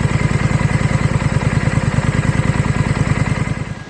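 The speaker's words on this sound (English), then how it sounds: "that was just touching 80 decibels at tick over on the standard exhaust" A Triumph Scrambler on its standard exhaust idles at tick over, a loud, close, even low chugging pulse that holds steady and then fades slightly at the end.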